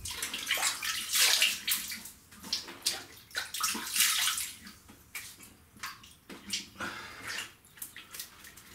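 Cold water runs from a tap to rinse a razor-shaved face, a broken splashing stream with bursts and pauses as hands move through it, fairly close and moderate in volume.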